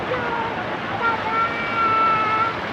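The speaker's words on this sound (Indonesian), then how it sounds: "Di air terjun." Rushing water at Tawangmangu waterfall, a steady broadband roar filling the background, with faint voices and a thin tonal whine drifting over it.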